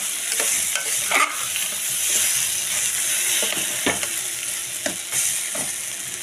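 Broken wheat dalia and mixed vegetables with salt and turmeric fry in a pan, a continuous crackling sizzle broken by repeated scraping stirs of a spatula, close and fairly loud with no voices.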